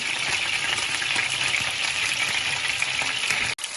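Chicken pieces for chicken shish fry and brown on all sides in a pan, giving a loud, steady, close sizzle with a brief break near the end.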